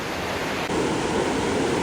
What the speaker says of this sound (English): When the creek gets up like this, it washes all the debris and limbs and sticks and all that stuff out and cleans the creek out.